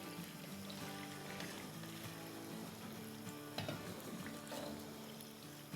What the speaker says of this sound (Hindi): देखिए ये हमारी चिकन जो है बड़ी अच्छे से फ्राई हो रही है।